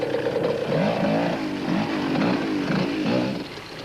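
A Yamaha off-road motorcycle picks its way over a boulder-strewn rally route, engine rising and falling in uneven bursts of revving, moderately loud and close.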